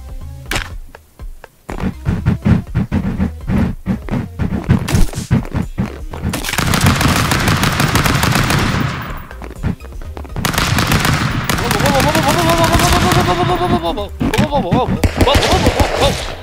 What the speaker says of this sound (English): You literally shot me with 50 bullets.